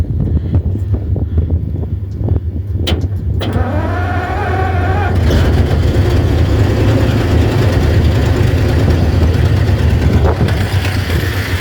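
Neglected 1950 Ford with a flathead engine, fed from a makeshift fuel tank, cranks with a whirring starter, catches and settles into a loud, steady rumbling run heard up close with some wind noise.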